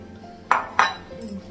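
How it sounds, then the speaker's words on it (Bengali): A metal wok (kadai) is set down on a stove in a home kitchen, giving two sharp clanks about a third of a second apart, close and fairly loud against a quiet background. "এদিকে হচ্ছে কড়াইটা বসালাম"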